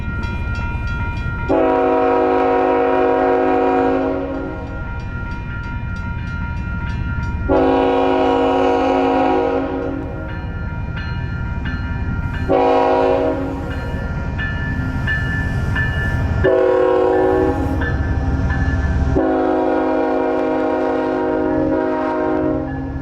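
A passing northbound Amtrak Saluki passenger train sounds repeated long horn blasts over a loud, continuous rumble of wheels on rails.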